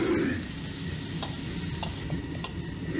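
Zaozhuang spicy chicken, with dried chilies and Sichuan peppercorns, stir-fried in a wok, giving a loud continuous sizzle with spatula stirs and clinks against the pan, and no talk.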